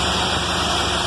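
A small engine on a restored machine idles steadily just after starting, a loud, even, continuous drone with no pauses or rev changes, heard up close with no voices.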